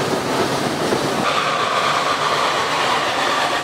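Steam tram in Mulhouse accelerating up a street slope, a loud continuous rumbling clatter of the running tram close by, steady for a few seconds.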